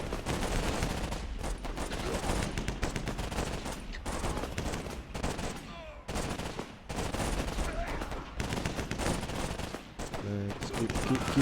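Rapid gunfire rattles almost without pause in a World War I video game battle, with loud bursts overlapping and only brief lulls throughout.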